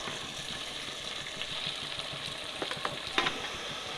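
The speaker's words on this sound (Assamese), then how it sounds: "মটৰ গাজৰ আৰু বিন গোটাখিনি দিম দি পেলাই অলপমান 5 মিনিটমান ভাজি ল'ম" Peas, carrots and beans fry in a pan over low heat, giving a soft, steady sizzle, with a few sharp stirring clicks near the end.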